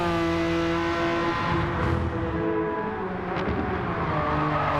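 A race car in Gran Turismo 7 roars under hard braking, with continuous engine drone and tire noise close and loud throughout, no talking.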